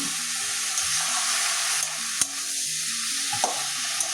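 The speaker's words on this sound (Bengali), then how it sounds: "নুনটাও কষিয়ে নেব" Bottle gourd sautéing with salt in a pan for a fish-roe curry: a loud, steady close sizzle with a few sharp spatula scrapes and taps as it is stirred, no voices.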